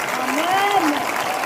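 Church congregation applauding steadily while a voice talks over the dense crowd clapping, the voice standing out above the applause.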